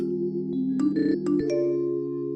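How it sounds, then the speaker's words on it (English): A mobile phone rings nearby with a bright electronic melody of sustained tones that shift pitch partway through, heard alone without speech. "As I do, my phone goes off."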